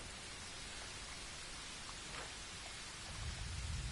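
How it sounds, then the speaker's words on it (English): Steady rain falls in the video game Pathfinder: Wrath of the Righteous, a constant broad hiss with a faint low rumble swelling near the end, no voices. "It got dark and it was rainy all of a sudden or something?"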